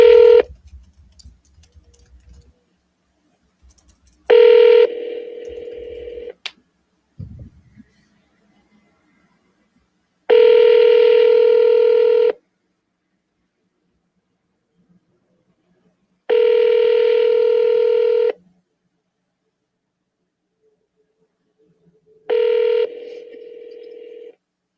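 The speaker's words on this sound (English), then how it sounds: "Double dial her." Telephone dialing tones on a phone call to a property seller: several steady multi-tone bursts, each lasting about two seconds, separated by silent gaps, clear and close, with faint brief sounds in between.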